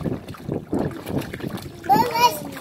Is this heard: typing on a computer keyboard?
no